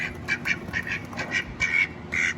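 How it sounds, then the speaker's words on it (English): Duck quacking repeatedly in short, bright bursts at close range, several calls in an uneven rhythm, heard in a garage setting during a 1969 Firebird reassembly with no talk over it. "the duck not to bite me in the face"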